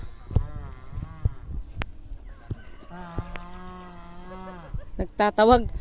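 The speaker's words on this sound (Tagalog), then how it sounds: "Nagtatawag na yung kalabaw." A water buffalo on a farm in Batangas gives long, low moaning calls close by, with goat-like bleats and honking animal cries mixed in.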